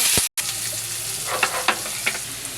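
Chopped onion dropped into hot oil, frying with a steady bright sizzle and a few soft stirring scrapes, close and fairly loud.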